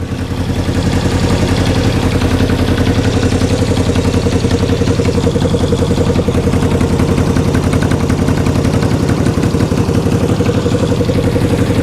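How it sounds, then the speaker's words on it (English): A 1974 Honda CB360 motorcycle engine runs cold on cold oil, revved with a loud, close, steady pulsing throb across the whole stretch. "We'll give her some cold revs"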